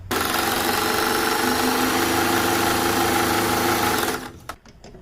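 A sewing machine stitching cloth for a baby cap hums in a loud, continuous run for about four seconds, then stops, followed by a few faint clicks and handling sounds.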